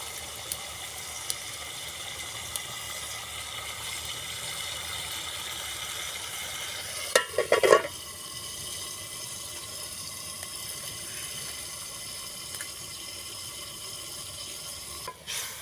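Masala water goes into a pan of capsicum cooking on a clay stove and gives a brief, loud splash and sizzle burst midway through, over a constant low frying hiss.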